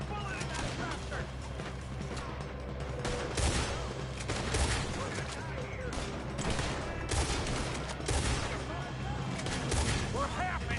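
Gunfire in Red Dead Redemption 2, shots crackling in dense bursts across the clip at a low level, mixed with steady game background noise.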